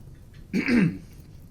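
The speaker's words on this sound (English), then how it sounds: "it's better me clearing my throat than listening to the alternative" A man clears his throat once, a short rough rasp close to the microphone against a quiet background.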